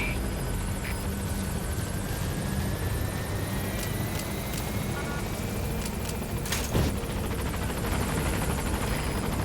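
In the Metal Gear Solid V video game, a helicopter approaches a landing zone with a constant droning rotor and engine roar, holding a steady level throughout.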